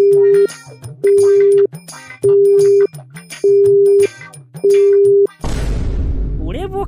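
A telephone busy signal sounds as five evenly spaced, identical beeps, each about half a second long with a matching pause, followed by a sudden burst of broad noise.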